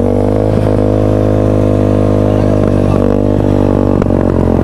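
A motorcycle engine with a carburetor fault that keeps leaking fuel idles steadily and loudly up close, holding a constant low throb with light mechanical clatter and no voices.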